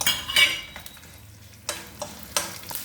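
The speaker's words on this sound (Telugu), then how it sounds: "ఈ పోపులో ఎండుమిర్చి వేస్తున్నాను." Dried red chillies dropped into a sizzling tempering of oil and spices for an okra fry, giving a close crackling sizzle with a few sharp utensil scrapes and clinks, no voices.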